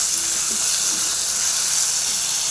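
Tomatoes, green chillies and garlic cloves frying in a pan, a loud, continuous close-up sizzle with steady hissing and no talking.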